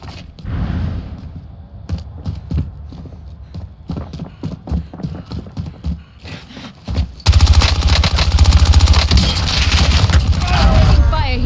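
Gunfire in Warzone on Rebirth Island, a close burst of rapid shots in a quick rhythm, then a dense, loud sustained barrage, with brief game voice lines.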